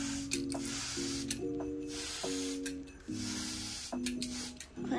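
A handheld spray bottle gives a series of short, quiet hissing squirts close by, fired in a quick uneven rhythm.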